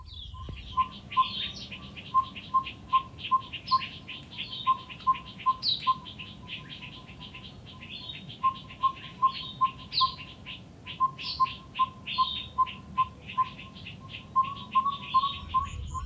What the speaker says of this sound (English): a few other bird species have come past